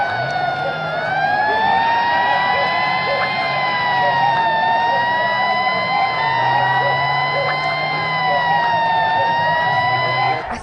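A Cruz Verde ambulance siren wails loud and steady for the full stretch, its rising and falling tones held over a dense background roar of a crowded street.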